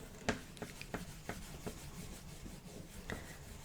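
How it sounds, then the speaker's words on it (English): Eraser rubbing out pencil writing on paper: a series of short, soft scratchy strokes at an irregular rhythm, quiet and close, with no talking. "let's rub this bit out"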